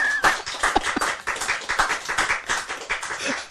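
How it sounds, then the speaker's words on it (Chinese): Hand clapping at a lecture: a run of sharp, close claps in an uneven rhythm that lasts about three and a half seconds with no talking. "拍手。"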